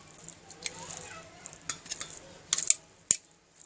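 Boiled pumpkin being stirred into whisked yogurt for raita, with a spoon scraping and clinking against the bowl in short bursts and a couple of sharp taps near the end.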